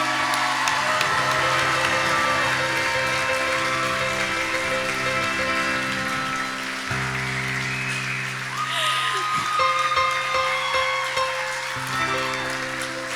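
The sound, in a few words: round of applause for the graduates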